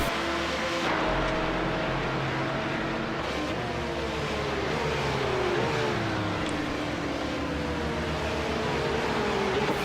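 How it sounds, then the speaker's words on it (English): Porsche 911 GT3 Cup flat-six racing engines scream past at high revs at Daytona, their pitch rising and falling as they go by. A continuous roar of motorsport noise with no talking. "the Porsches sound amazing right now. That flat six engine just absolutely screams"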